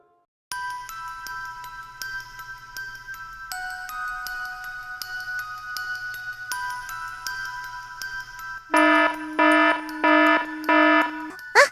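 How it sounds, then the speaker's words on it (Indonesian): A CCTV alarm in the Sakura School Simulator game rings as a repeating electronic tone pattern, then switches to a louder, faster burst of pulsing beeps near the end. "Itu kan suara alarm CCTV."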